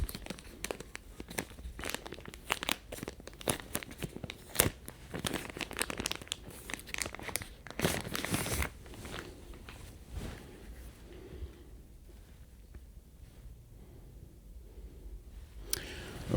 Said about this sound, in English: Let's just unwrap this thing.